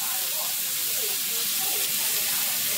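Chips fry in lard in a chip pan, a dense, even hiss and sizzle throughout, close and loud with no gaps.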